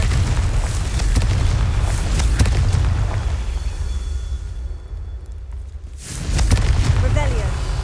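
A Confringo fire-blast spell bursts in Hogwarts Legacy, a loud, sustained rumbling boom with crackling debris that fades briefly before a second blast erupts near the end.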